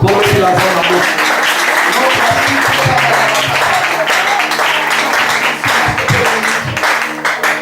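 Church congregation applauding and cheering during a French-language service, a dense, loud, continuous wash of clapping with voices mixed in, sustained throughout without a break.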